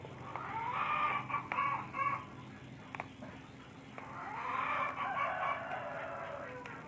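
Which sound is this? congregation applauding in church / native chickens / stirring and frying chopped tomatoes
native chickens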